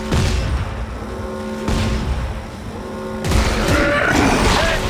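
Gunfire from a weapon in the video game Dead Space 3, several loud bursts and booms over a dense, noisy game soundscape with little pause between them.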